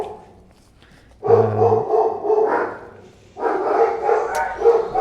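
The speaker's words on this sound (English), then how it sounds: "Now the dogs are barking." Dogs bark indoors in two loud bursts, each lasting a couple of seconds, with a brief lull between them.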